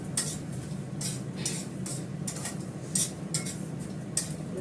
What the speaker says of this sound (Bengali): এখন ডালটা ভালো করে ভেজে নিচ্ছি